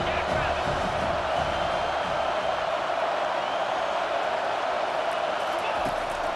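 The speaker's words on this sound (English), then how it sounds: "This crowd trying to make life miserable for this offense." Stadium crowd in EA Sports College Football 25 during a college football game, a dense, continuous roar that holds steady and loud throughout.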